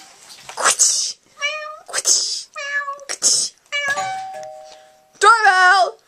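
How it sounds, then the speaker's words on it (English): A doorbell chime plays from a speaker at home, its ringing tones standing out amid a cat's meows and people's voices. "Doorbell!"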